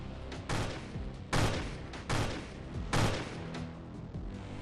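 Four or five loud, sharp gunshot sound effects ring out in a staggered sequence, dramatizing the 1980 shooting outside the Dakota apartment building in Manhattan, New York.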